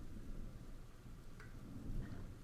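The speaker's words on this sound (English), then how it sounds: "I like how you can hear the sort of rain and stuff outside still." Rain and rolling thunder sound outside in the video game Tokyo Dark, a low, muffled, continuous rumble with steady rain texture heard faintly from indoors, with no talking.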